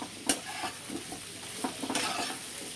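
A spoon stirs chicken stew vegetables and potato in a hot pan, making soft scraping strokes over a steady sizzle, with a sharper clack or two against the pan.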